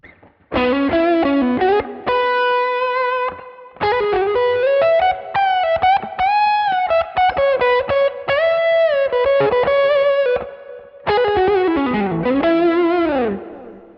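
An overdriven electric guitar through a Neural DSP Archetype John Mayer X preset combining a Klon clone and TS10 plays a singing lead line with sustained, bending notes and a saturated, slightly chorused tone, loud and up front.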